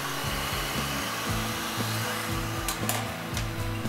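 A heat gun blowing over automotive vinyl wrap gives a steady close whoosh of hot air, with a faint rhythmic low pulsing and a few light rustles of the film near the end.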